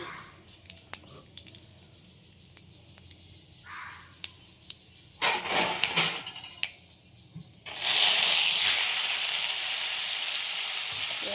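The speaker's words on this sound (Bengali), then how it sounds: "সর্ষের তেল দিয়েছি, আমি নিয়ে 5 ফোড়ন আর একটা শুকনো লঙ্কা, এটা দিলাম ফোড়ন" Panch phoron and a dried red chilli hitting hot mustard oil, a few light crackles and pops at first, then a loud, steady sizzle close by that continues to the end.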